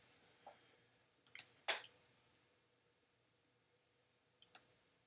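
A computer mouse clicks on a website button, with several sharp, close, quiet clicks spaced irregularly over near-silence, a quick cluster in the middle and a final pair at the end.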